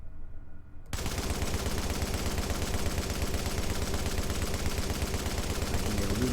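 M60 light machine gun in The Division video game, held on full auto: after a brief quieter moment, a sustained, loud, rapid stream of gunfire runs unbroken through the rest of the clip.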